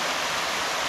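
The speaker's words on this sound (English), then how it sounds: "It's not a big waterfall, but it's still pretty nice." A small waterfall makes a steady, close rushing hiss of falling water, brief and unbroken, with no voices.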